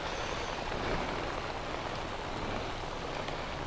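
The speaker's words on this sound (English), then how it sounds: "So it is really raining." Heavy rain pours down during a motorcycle ride in a storm, a dense, constant hiss of drops on surfaces with faint traffic underneath and no let-up.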